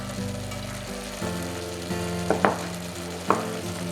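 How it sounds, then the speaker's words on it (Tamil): Cauliflower, carrot and peas sauté in a pan for a vegetable kurma, a steady close sizzle with a few sharp scraping stirs of the spoon standing out near the end; no one speaks. "எல்லா காயும் சேர்த்து நல்லா வதங்குற வரைக்கும் விட்டுருங்க"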